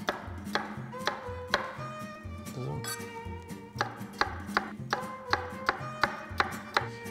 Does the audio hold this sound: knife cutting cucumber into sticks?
yes